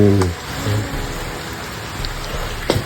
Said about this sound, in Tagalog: Tapos umulan pa dito. Ayan. Ulan.